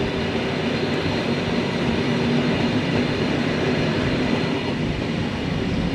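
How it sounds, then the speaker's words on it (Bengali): Glacier Express panoramic train running through Switzerland, a continuous even rumble of wheels on track heard steadily throughout with no voices. "এটা হচ্ছে গ্লেশিয়ার এক্সপ্রেস"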